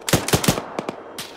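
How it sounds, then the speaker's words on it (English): Machine gun suppressing fire in Arma 3: a rapid burst of three loud shots, then two quicker shots and one fainter report trailing off, all close and without voices. "If you can lay some suppressing fire southwest with your machine gun, that'd be appreciated."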